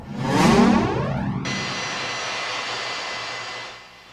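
An America West Airlines jet airliner arrives with a loud, close roar that swells and sweeps, then settles into a steady, high turbine whine that slowly fades.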